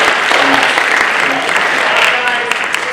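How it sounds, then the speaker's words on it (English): Loud, continuous audience applause at a school STEM capstone presentation evening, dense clapping sustained throughout with faint voices mixed in. "let's give them a big round of applause right now for the hard work they've done this semester"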